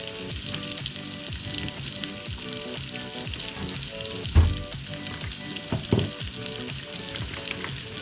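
Celery frying in oil or butter at the start of an asparagus soup produces a loud, continuous close sizzle with crackling pops and a couple of heavier knocks from the pan.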